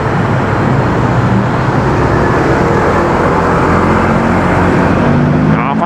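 Dense, steady road traffic roars continuously close by, a constant wash of engine and tyre noise with no pauses, loud throughout.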